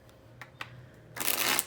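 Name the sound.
tarot cards being shuffled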